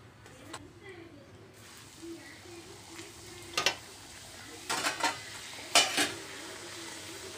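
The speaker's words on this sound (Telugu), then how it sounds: "ఇలాగే మళ్ళీ చేసుకునే మొత్తం కూడా మనం ఆయిల్లో వేయించి తీసుకోవాలండి" Beetroot puris deep-frying in hot oil give a steady low sizzle with a few sharper scrapes and clinks of a utensil in the pan, the bubbling swelling briefly in the later seconds.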